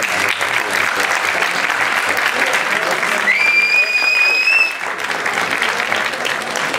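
Steady crowd applause at a bodyfitness competition fills the whole clip, loud and continuous, with a few whistles cutting through partway and the clapping easing slightly near the end.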